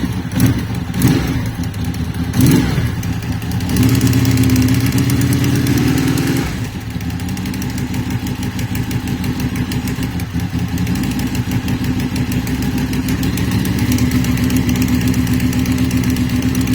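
A high-mileage Honda VFR800 motorcycle idling with a noise from the front cylinder bank: a steady, loud, close engine drone with an uneven ticking rattle, after a few brief knocks at the start.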